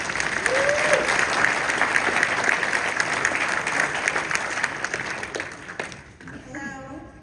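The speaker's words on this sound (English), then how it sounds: "give a round of applause for Jennifer as she walks through the rules of engagement" A crowd at a Chinatown community meeting with the mayor claps in a sustained, dense burst that tapers off near the end, when a single voice begins speaking.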